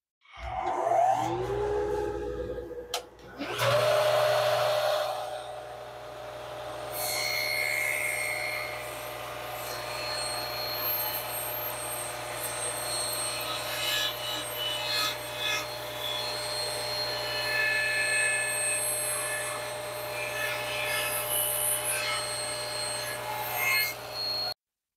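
Table saw spinning up and cutting across the end of a wood and epoxy resin river table clamped to a sled, a loud, close, sustained whine with grinding cut noise that holds steady.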